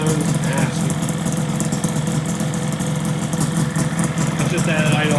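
A 1985 Yamaha RZ350 Kenny Roberts edition motorcycle idles steadily after years of storage, its engine holding a continuous, even low rumble close by without pauses.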